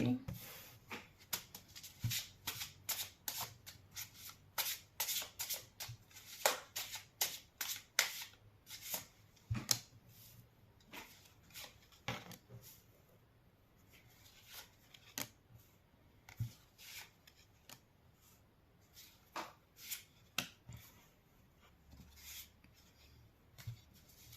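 Tarot cards being shuffled by hand in a quick series of crisp riffling bursts, busy at first and then sparser, close up with no talking.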